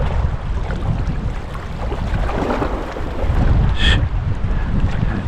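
Wind gusts hard across the microphone on a fishing boat on a big river below a dam. A loud, steady low roar buffets the whole clip, with a brief higher rattle near the end and no talking.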